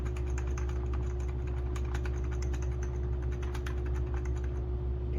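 Keys on a computer keyboard tapped several times over a steady machine hum, including presses of the escape key on a secondhand Goodwill desktop, crisp clicks fairly close and at an uneven rhythm, with no talking.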